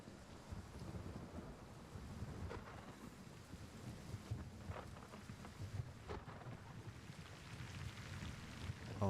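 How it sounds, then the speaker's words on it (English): Steady rain hitting a tarp in the video game Gray Zone Warfare, a dense continuous patter with occasional heavier drops and gusty wind noise, faint and unbroken throughout. "Like the sound of the rain hitting the tarp even sounds good."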